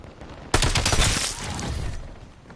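A sudden loud burst of rapid gunfire in a Call of Duty Black Ops 7 multiplayer match, the close volley crackling for about a second before trailing off into fainter echoing shots.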